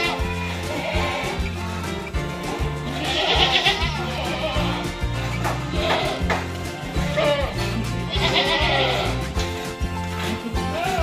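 Purebred Saanen goats on an Indonesian goat farm bleat while waiting for their afternoon feed. Several calls rise at intervals over a steady, rhythmic background that sounds like music playing throughout.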